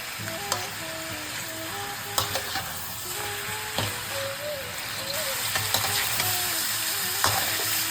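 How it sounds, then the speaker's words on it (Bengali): Goat mutton fries in a pan with a steady, moderately loud sizzle, broken by sharp scrapes and clinks of a spatula stirring the meat throughout. "মাংসটাকে প্রথমে খুব ভালোভাবে একটু ভেজে নেব।"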